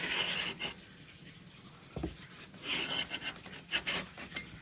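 A Veritas cabinet scraper drawn across a wooden surface, giving intermittent close, soft rasping strokes with brief pauses between them and a low thump near the middle.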